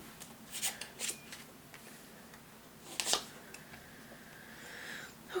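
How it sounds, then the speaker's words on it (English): Tarot cards being shuffled and drawn at close range, soft scattered riffles and card snaps in quick clusters over a quiet room background, no talking. "Let's pull some clarifying tarot cards underneath here."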